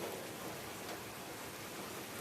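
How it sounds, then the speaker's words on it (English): Rain falls steadily, a soft, even hiss of drops that stays faint and continuous throughout, with no voices. "It's raining."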